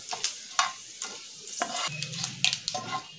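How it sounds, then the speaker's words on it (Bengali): Chopped onion drops into hot oil with whole spices such as cinnamon and cumin, raising sharp sizzling crackles and stirring scrapes in uneven bursts, close and clear with no talk. "এবার আমরা পেঁয়াজ কুচিটা দিয়ে দিচ্ছি।"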